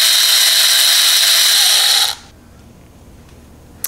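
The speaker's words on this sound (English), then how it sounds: "which is a cordless electric cutter" A cordless electric box cutter runs with a loud, steady, high-pitched buzzing whir for about two seconds up close, then cuts off abruptly into quiet room tone with a small click at the end.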